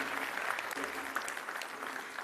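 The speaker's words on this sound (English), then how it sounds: "Give yourselves a round of applause." Steady applause from a conference audience at an arbitration week plenary in Johannesburg, a fairly faint, even wash of many clapping hands with no gaps, heard alone and at a distance.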